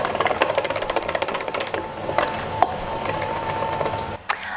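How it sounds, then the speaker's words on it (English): An electric mixer running on low through cupcake batter, with a steady mechanical whir and rattling beater clatter that fades partway through, followed by a few sharp knocks. "So now you just need an electric mixer."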